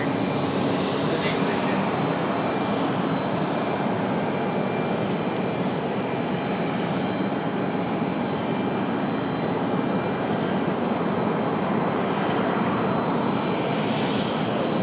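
A fixed-wing aircraft passes over Raleigh Durham International Airport, a loud steady engine roar filling the whole stretch with no break, heard from the ground nearby.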